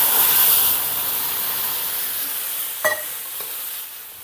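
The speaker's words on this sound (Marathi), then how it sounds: "मी आता यामध्ये उकळतं पाणी टाकते आहे" Boiling water poured into hot roasted rava for upma gives a loud, steady steamy sizzle and hiss that fades slightly over a few seconds, with a couple of brief clinks near the end.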